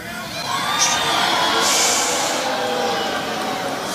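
A large political rally crowd cheers and shouts enthusiastically, a loud, sustained roar of many voices with rising peaks of whooping, heard up close throughout.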